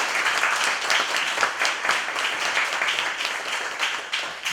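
An audience at an academic lecture gathering applauds an introduced professor, a dense, even wash of clapping that runs continuously at steady volume with no talking over it.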